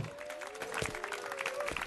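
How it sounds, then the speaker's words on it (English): An applause emote sounds during a UFC 292 betting livestream, a brief burst of synthetic clapping and crowd noise layered under a tonal chime and faint background. "Why am I hearing applause?"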